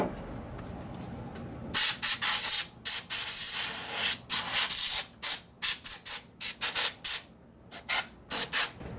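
Compressed air blasts across Ford F150 engine parts during a turbo diesel swap, a long loud hissing burst followed by a string of short, sharp bursts of varying length, close and alone without talk.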